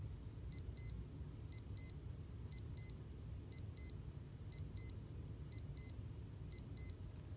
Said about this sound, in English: If you want to test or listen to your alarm